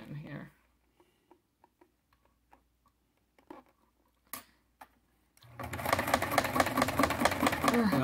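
An old Singer sewing machine stitching through a steering wheel cover: a few scattered clicks and taps as it is set up, then a loud, steady rapid chatter of the needle running continuously for the last few seconds.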